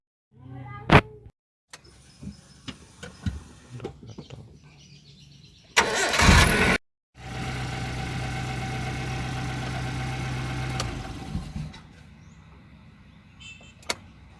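Suzuki APV car engine cranking and catching, then a steady idle that runs for several seconds before fading, preceded by clicks and a brief loud burst of noise, with birds faintly audible.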